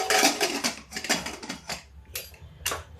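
A metal pressure cooker lid rattles and clanks into place over dal, several sharp close clinks and scrapes of steel in quick succession, then a pause and a few final taps.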